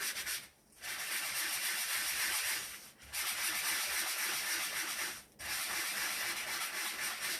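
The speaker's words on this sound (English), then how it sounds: "we're going to sandpaper this. Good old-fashioned sanding block." A sanding block rubbing sandpaper back and forth over cardstock, in long steady strokes broken by two short pauses, close and clear.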